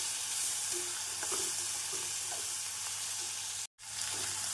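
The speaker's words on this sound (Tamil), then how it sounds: "வெங்காயம் இந்த அளவு வதங்கவும் மிதமான தீயில் பொன்னிறம் ஆகும் வரை வதக்க வேண்டும்" Steady broadband sizzle of onions frying over medium heat in a pan, with faint stirring scrapes throughout and a brief dropout near the end.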